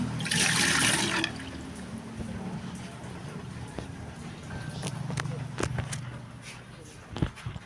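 Tap water splashes while dishes are washed at home, a strong rush at first that settles into a softer trickle with scattered clinks, a voice talking faintly underneath.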